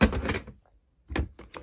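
A drawer of a washi tape storage unit sliding open, a short rattling scrape, a brief pause, then a second scrape with a quick clatter.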